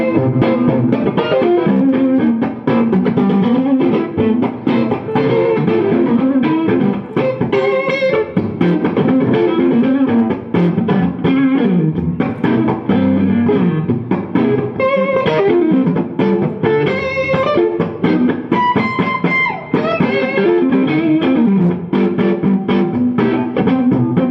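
Electric guitar played through a PRS J-MOD 100 amp with distortion, loud and continuous, bouncing rhythmic chords and riffs, close and dense throughout.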